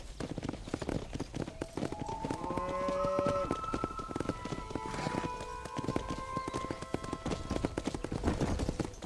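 Cattle low in Red Dead Redemption while the herd is driven out to pasture, several drawn-out moos overlapping amid clopping hooves and a busy outdoor game soundscape, with no talking.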